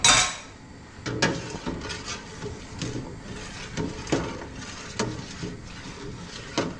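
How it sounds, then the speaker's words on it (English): Metal spoon knocking and scraping inside a pot while rosella jam with citric acid is stirred, a series of irregular close clinks and scrapes spread across the clip with no talking. "Pop that in there as well. And then we'll give it another stir."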